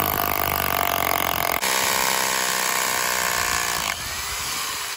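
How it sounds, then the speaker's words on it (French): A power drill fitted with a 6 mm masonry bit bores through wood down into a concrete slab, a loud continuous whine that shifts pitch twice as the bit moves through the material, close and steady with no talking. "Je perce avec la mèche de 6 forêt à béton jusqu'à toucher le béton."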